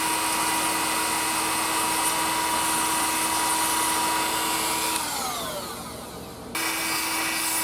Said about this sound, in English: now I'm going to take the grinder and just kind of dress it up a little bit